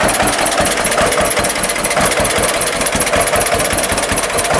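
A 1949 John Deere BW tractor fitted with a 45W loader idles with a loud, steady, rapid chugging pulse, close by and running alone without any talk.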